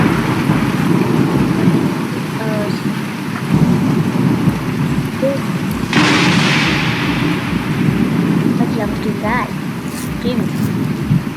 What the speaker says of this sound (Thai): ฟ้าผ่าไปรถเราอ่ะ